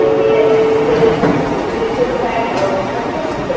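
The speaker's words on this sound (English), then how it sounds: "So let's get on this train" A metro train in Kuala Lumpur rumbles with a steady, loud roar and a faint tonal whine, sounding as though heard from inside or beside the car.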